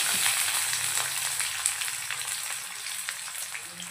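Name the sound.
onion and bay leaf frying in spices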